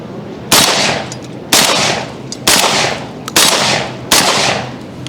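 A Remington Sportsman 48 12-gauge shotgun fitted with a Cutts Compensator fires five loud, close shots spaced roughly a second apart, each blast followed by a decaying echo, with no speech.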